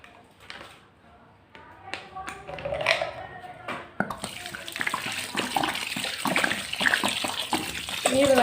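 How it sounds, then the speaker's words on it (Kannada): Water is poured from a container into a homemade grape mixture for wine, splashing and gurgling louder as the flow builds, with a few clinks of the vessel along the way. "ಇನ್ನು ಇದಕ್ಕೆ ನಾನು ನೀರು ಹಾಕೋತೀನಿ."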